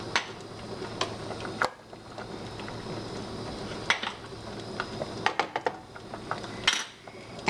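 Metal whisk clinking and scraping against a pan while butter is beaten for a chicken fettuccine Alfredo sauce, giving irregular light taps and rattles with a few sharper clanks, no voices.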